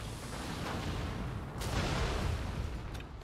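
Bomb blast in the co-op action game Nioh 2 on a bridge, a dense low rumbling burst with a second swell partway through, continuous and fairly loud with no talk.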